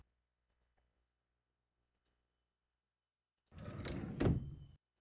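Furniture doors open and close in a virtual room, with a few soft clicks and latches spaced apart, then a louder sliding, rumbling movement that ends in a closing thud.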